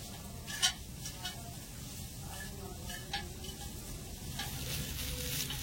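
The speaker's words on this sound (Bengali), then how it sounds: "একদম অল্প কিছুক্ষণের জন্য পনিরটা ভেজে নিতে হবে।" Paneer frying briefly in a pan with a little oil, giving a soft, steady sizzle with a few light clinks of a utensil against the pan.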